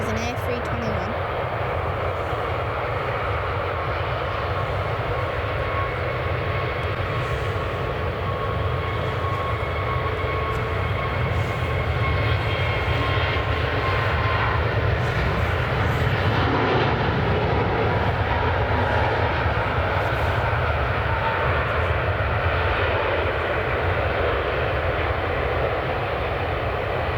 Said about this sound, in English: This Jet2 Summer Holidays is going to Sofia and is an A321.